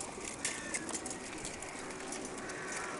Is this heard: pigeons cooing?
yes